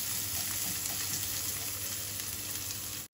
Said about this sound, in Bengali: আমি এখন পেঁয়াজটা দিয়ে দিব, আমি দিয়ে ভালো করে ভেজে নিই